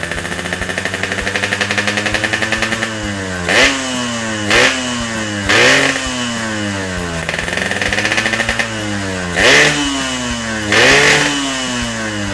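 A Yamaha RX King motorcycle engine, with its carburetor set rich, idles with a loud two-stroke rattle. It is then revved hard to high RPM four times in sharp bursts, each falling back to idle.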